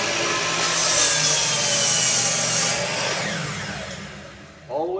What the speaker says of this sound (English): Plug the saw in.